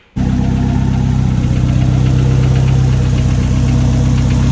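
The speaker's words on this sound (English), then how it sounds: "There are some noises that are concerning me that may or may not be engine knocking" A Mitsubishi 4G63 engine idles at a steady, loud drone that starts abruptly and runs on without a break, with a low, even rumble that could be faint knocking. No one speaks over it.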